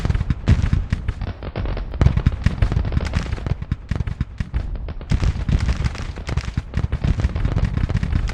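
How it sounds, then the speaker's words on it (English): Artillery and musket fire from a Civil War battle in the Grand Tactician strategy game, a dense continuous barrage of booms and crackling shots layered together with no pauses. "We're going to let that artillery figure out what it wants to shoot."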